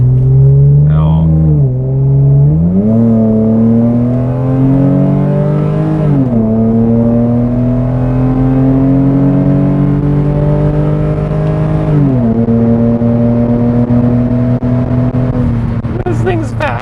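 A Lexus IS 300 accelerates hard in manual mode from inside the cabin, its engine droning loud and rising in pitch through each gear, dropping at shifts before climbing again.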